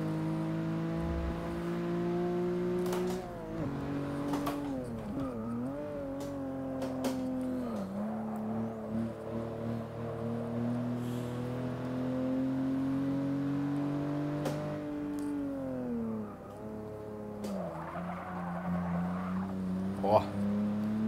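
BMW 235i engine in the racing game Forza Motorsport 6 Apex, droning steadily with pitch rising and dipping through gear shifts and brief tire squeals, while someone talks over it.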